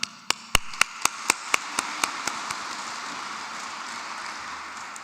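A short burst of about ten sharp rhythmic claps at an installation Mass, loud at first and quickly fading away, followed by a quiet hall with no talking.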